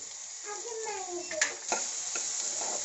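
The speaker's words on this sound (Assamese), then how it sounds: "আদা নহৰুখিনি দি অলপমান ভাজিব" Chopped ginger and garlic fry in a pan for a fish curry, giving a continuous close sizzle with a few stirring scrapes and clinks.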